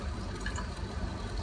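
Tap water flows through a switched adapter into a Kangen water ionizer, a steady, fairly faint rushing and trickling that continues without a break.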